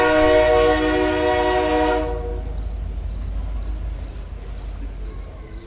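A train pulls into Burap station at night with a new engine attached after a breakdown, a loud horn blast sounding for about two seconds over a heavy rumble, then the steady roll of the train with faint squeals fading slightly.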